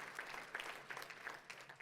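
At a church service, faint applause rises from the congregation, a low, even patter of many hands heard from a distance and lasting under two seconds.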